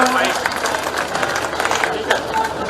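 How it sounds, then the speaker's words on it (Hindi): A crowd at an outdoor BJP public rally in a market square in Sanwer applauds to welcome MP Shankar Lalwani, steady clapping with voices talking over it. "मैं चाहूंगा जरा जोरदार तालियों से आप आदरणीय शंकर लालवानी जी का स्वागत कर दीजिए"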